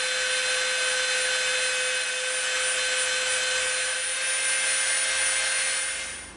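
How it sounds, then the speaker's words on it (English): A high-pitched rotary tool whines steadily as it bevels the edge of EVA foam, continuous and close, with no talking. "now we're gonna bevel this"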